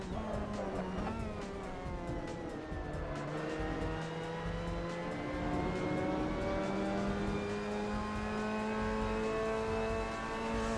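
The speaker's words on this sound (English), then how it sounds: "Brake hard and in a straight line just after the 200 board, and keep going straight under braking" A Mazda MX-5 Cup race car in the Assetto Corsa video game at Road America, its engine note falling steadily under hard braking and then droning, with tire noise and no talk.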